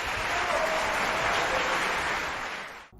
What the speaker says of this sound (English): Can we get a round of applause for the winners?